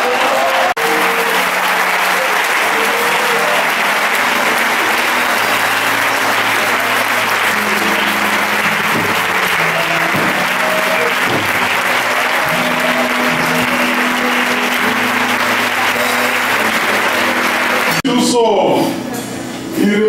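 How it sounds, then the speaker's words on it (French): A church congregation applauding, a loud, dense and sustained wash of clapping filling the room for many seconds before dropping away near the end, with voices mixed into the crowd. "Est-ce qu'on ne peut pas acclamer pour cela?"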